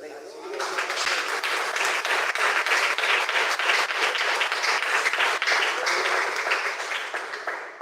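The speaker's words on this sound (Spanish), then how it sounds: "Dale un aplauso al Rey" A church congregation breaks into applause, a dense, sustained wash of many hands clapping that rises, holds steady for several seconds, then begins to fade.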